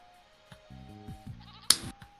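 Goats bleat in the PV County farming game, several short wavering cries in close succession, the last one louder, with a sharp click just before it.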